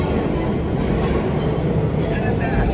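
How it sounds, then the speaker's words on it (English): Steady rumble and rattle of trains filling a New York subway station, a loud continuous roar with no breaks, with faint voices blended into the din. "We're in the New York subway station."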